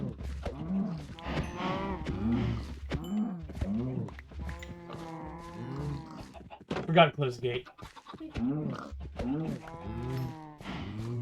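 Minecraft cows mooing repeatedly in a game, low drawn-out lowing calls overlapping with someone talking throughout at close range.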